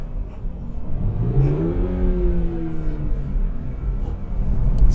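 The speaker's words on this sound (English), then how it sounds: "Now into second, a big blip." A car engine gives a sharp rev blip while downshifting into second gear in heel-and-toe driving, pitch sweeping up then falling back to a steady idle-like drone, loud and close.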